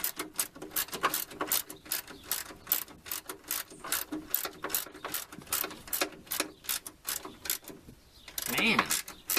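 Ratchet clicking in quick bursts while loosening a radiator bracket on a Ford Mustang, close and repetitive with short pauses between strokes, a brief metallic rattle near the end.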